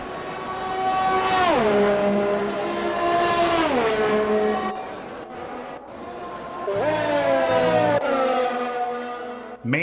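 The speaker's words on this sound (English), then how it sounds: "Man, these cars sound beautiful as we're going on board with Leash Justin." F1 race cars in a video game heard onboard during the Spanish Grand Prix, engines screaming loud and high, each rising in pitch through the gears with sharp dips at upshifts, one pass after another with a brief lull between.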